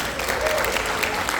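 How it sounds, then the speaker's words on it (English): Brief burst of applause from a church audience at a vacation Bible school closing, steady dense clapping filling the whole moment with a murmur of voices mixed in. "Give them a round of applause."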